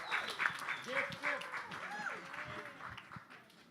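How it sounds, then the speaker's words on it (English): Scattered applause from an audience at a general assembly, acknowledging an award-winner, with claps sounding fairly distant and quiet beneath people talking close by. "Huge applaud"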